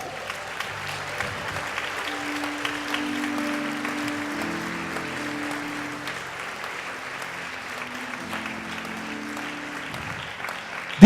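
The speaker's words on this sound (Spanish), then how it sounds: "Den un aplauso al Señor" A church congregation gives sustained applause to the Lord, a steady wash of clapping lasting several seconds with faint voices mixed in.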